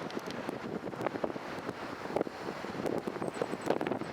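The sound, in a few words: wind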